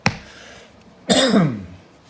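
A single sharp cough, close and fairly loud, follows a faint throat noise, with no talking around it.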